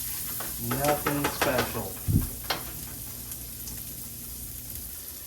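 Butter sizzling in a pan while taco filling cooks, a steady soft hiss under brief spoken remarks and a few stirring clinks, then fading to a quiet, even sizzle.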